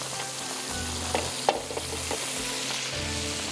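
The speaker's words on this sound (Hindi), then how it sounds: "बटर गर्म हुआ, इसके ऊपर जाएंगे कबाब" Chicken kebabs sizzle in hot butter in a pan, giving a loud continuous fry with crackles and a few clinks and scrapes of stirring, close up and without talk.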